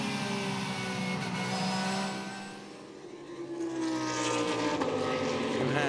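Onboard a Porsche GT race car at the Red Bull Ring in an ADAC GT Masters race, the engine drones loudly and continuously, dipping briefly as it lifts off before rising again under acceleration.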